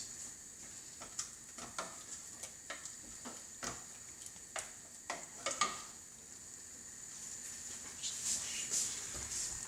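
Chili is stirred in a pot on the stove at home, a series of soft scraping ticks and clinks every second or so over a low simmering hiss, faint and close.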